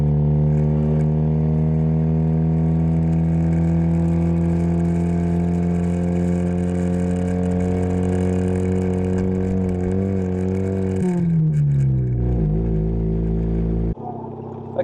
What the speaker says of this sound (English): the engine note is a little bit less raspy